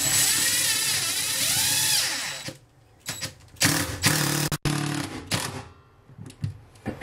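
A power drill drives number 10 stainless steel screws through a toilet flange. A long, close whine runs for about two seconds, then several short, sharp bursts follow with pauses between them. No voice is heard.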